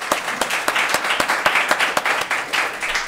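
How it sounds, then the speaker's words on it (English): A seminar audience applauds after the presentations, a fairly close, moderately loud patter of handclaps with distinct sharp claps standing out from the steady clapping. "I think we give applause to Emma and Valerie for the presentations"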